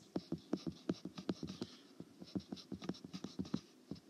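A pen or marker draws on paper in a classroom, making a faint, close run of quick scratchy strokes in an uneven rhythm, with no one speaking.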